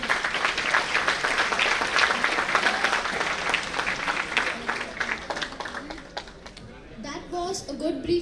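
A conference audience at a national CA students' event applauds the presenters in a dense, sustained burst of clapping that tapers off toward the end, with faint voices underneath as it dies down.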